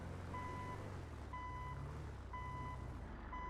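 Truck reversing beeps in a GTA roleplay game: steady electronic tones repeating about once per second over a low, rumbling engine idle, with no talking.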